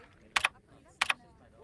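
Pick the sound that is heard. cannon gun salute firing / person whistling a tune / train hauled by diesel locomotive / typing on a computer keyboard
typing on a computer keyboard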